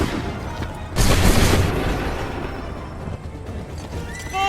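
Musket and cannon volley in the Assassin's Creed 3 video game, a loud, deep booming blast that rolls on for a couple of seconds, then fades into battlefield rumble with horses whinnying near the end.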